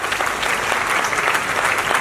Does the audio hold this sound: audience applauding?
yes